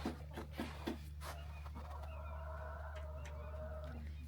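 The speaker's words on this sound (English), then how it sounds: "our chickens are out" Farm chickens out in their yard give a few close clucks at first, then quieter calls carry over a steady low hum.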